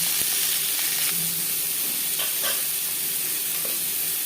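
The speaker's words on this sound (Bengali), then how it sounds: "সামান্য পরিমাণে রিফাইন্ড অয়েল এবার দিয়ে দেব আলু" Diced potatoes sizzle steadily in hot refined oil for a vegetarian potato and pointed gourd curry, a dense, loud, continuous hiss with faint stirring clicks and no talk.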